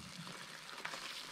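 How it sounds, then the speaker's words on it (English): Tomato paste frying in a pan gives a steady, close sizzle with crackling spits throughout, stirred so it doesn't burn, with no voices. "I'm still frying up my paste, and you can hear it sizzling."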